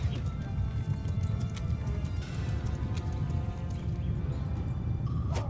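Horses moving in the video game Mount & Blade II Bannerlord, a soft, continuous rumble of hooves with scattered clip-clop and a low battlefield drone, faint and steady throughout.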